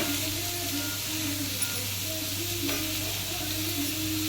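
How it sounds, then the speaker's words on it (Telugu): Onions fry in oil with cumin in a pan for rajma curry, making a steady, close sizzle with a soft hum underneath and no speech. "తర్వాత ఇందులో ఆనియన్స్, కొంచెం వేగిన తర్వాత"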